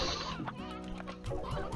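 A chicken clucks in the video game Slime Rancher, with a few short, fairly soft clucks over steady game music.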